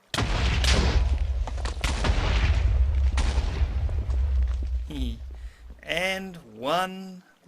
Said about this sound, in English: And one last explosion.